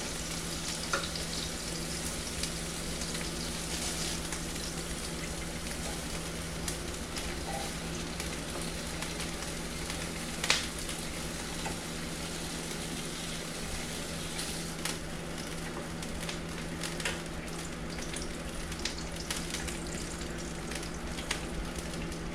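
Pork ribs for a cilantro lime garlic honey butter dish fry in a pot, giving a steady, close sizzle and crackle that runs unbroken through the whole stretch with no talking.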